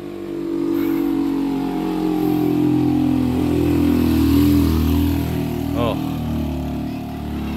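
Motorcycle engine labouring up a steep hill on the climb to Batu Kuda Manglayang, a steady close drone under a voice, with a short sharp squeal near the end.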